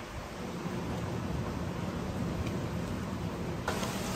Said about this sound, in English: We've got thunder and lightning now.